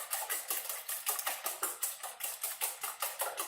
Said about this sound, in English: stick maybe a teaspoon or a pinch of baking soda into my eggs here and